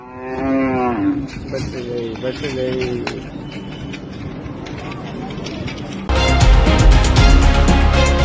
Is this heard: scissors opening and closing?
no